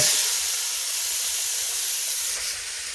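Cut-up vegetables hit a hot pan and give off a loud, bright, steady sizzling hiss close up, easing slightly toward the end.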